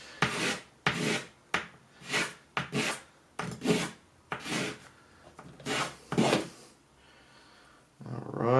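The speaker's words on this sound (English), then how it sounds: "Make sure you do sweeping motions with the sanding" Rhythmic hand sanding of a 3D-printed hidden-blade part: about a dozen short rasping sweeping strokes in a steady back-and-forth pattern, close up, followed by a brief quiet pause and one more stroke.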